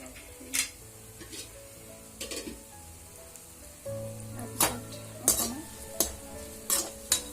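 Cloves, turmeric, cardamom, cinnamon and bay leaf fry in oil for pulao, with a soft sizzle beneath repeated rhythmic scraping strokes of a spatula, growing busier and louder toward the end.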